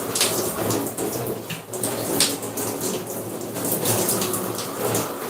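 Steady running water from a tap or shower pours continuously during a natural hair wash day routine, a broad close hiss with slight splashing variation and no talk over it.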